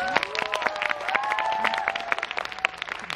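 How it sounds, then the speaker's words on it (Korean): A short burst of applause from a small audience, quick scattered claps over a brief murmur of voices. "우리 그 고민에 박수 한번 쳐드릴까요?"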